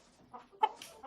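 A rooster makes a brief series of clucking, crowing calls at close range, a short burst of squawks and rough notes lasting about a second.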